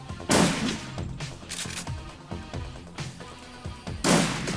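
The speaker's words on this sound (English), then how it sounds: "I'm like sniping with a shotgun." Gunfire from Shadowrun Returns, including shotgun blasts: a few loud, sharp shots spaced irregularly, with one near the start and one near the end, over a lighter crackling background of smaller shots.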